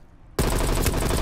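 Rapid automatic fire from an XM4 rifle in Call of Duty Black Ops Cold War, a loud sustained burst that starts abruptly after a brief quiet moment and rattles on continuously.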